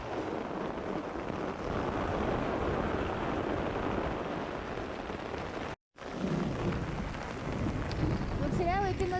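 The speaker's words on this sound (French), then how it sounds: "Tempête dans le désert." A steady roaring desert storm with rain-like hiss fills the scene, constant and enveloping, with a brief voice near the end.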